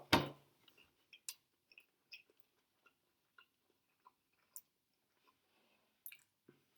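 Quiet, close chewing of a bite of Uno Prima Pepperoni pizza, with soft sparse mouth clicks and squishes spaced irregularly after an initial louder crunch, no talking.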